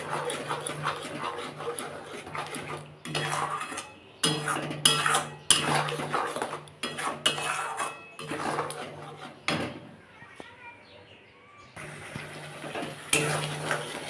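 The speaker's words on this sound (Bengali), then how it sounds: "এটাকে সমানে ভাজি নিয়ে আসতে হবে নাহলে তলায় ধরে যাবে" Ridge gourd peel paste fried with sugar and salt in a pan, a close, intermittent sizzle broken by repeated scraping and clinking of a spatula against the pan as it is stirred, with short pauses between bursts.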